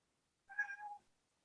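A single soft cat meow, short and faint, rising and falling in under a second, heard alone against near silence.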